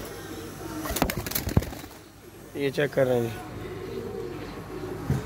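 Ferozpuri pigeons in a loft coo in short bursting phrases mid-clip, close and moderately loud, while someone talks over and around them.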